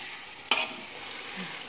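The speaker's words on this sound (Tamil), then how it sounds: "மட்டன் போட்டு நல்லா வதக்குங்க." Mutton pieces sautéing in a pan for Ambur-style biryani, with a steady soft sizzle and one sharp stirring clatter near the start, close and moderately quiet with no talk.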